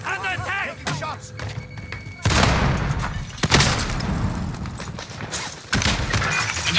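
Gunfire in Call of Duty Warzone, fought in tunnels: loud, dense bursts of shots break in suddenly after a brief voice, then continue as heavy rapid volleys and thuds.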